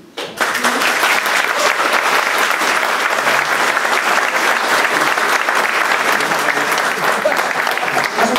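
An audience at a town meeting on an industrial zone bursts into loud, sustained applause close by, dense clapping continuing for several seconds without letting up.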